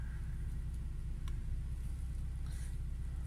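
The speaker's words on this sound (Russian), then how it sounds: "Сейчас машина прогреется." A 2019 UAZ Patriot engine idles steadily while warming up on a frosty minus-ten morning, a low continuous rumble with no voices, its idle known for fluctuating revs during warm-up.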